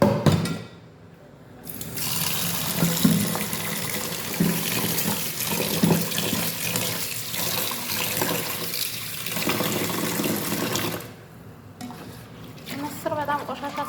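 Tap water runs steadily into a sink as lentils are washed, a loud continuous splashing that stops briefly at the start and again near the end.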